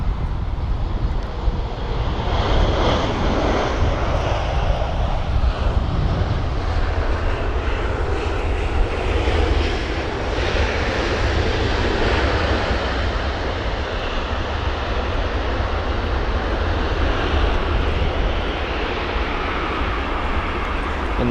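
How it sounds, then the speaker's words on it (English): An Air Serbia Airbus A319ceo landing at London Heathrow in windy weather gives a loud, sustained jet engine roar that holds steady for the whole stretch, broadband and close, with no voices. "So this here is the Air Serbia A319 CEO from Belgrade"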